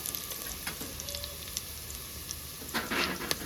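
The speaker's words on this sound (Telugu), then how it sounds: "1 స్పూన్ వరకు అల్లం వెల్లుల్లి పేస్ట్ వేసుకొని ఫ్రై చేసుకోవాలి." Ginger garlic paste frying in a pan, giving a soft, steady sizzle with a few faint stirring scrapes and a slightly louder burst of crackle near the end.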